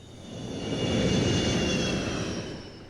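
A jet aircraft performing at an air display roars past, a broad engine noise swelling to a peak around the middle and easing off again, with a steady high whine running through it and no voices.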